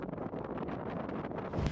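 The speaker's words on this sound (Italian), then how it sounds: "Su questa cresta c'è un vento pazzesco, è veramente fortissimo" Strong wind sweeps across a mountain ridge on the Alta Via 1 trail in the Aosta Valley, a steady roaring buffet against the microphone that swells into a heavier gust at the end, with no voices.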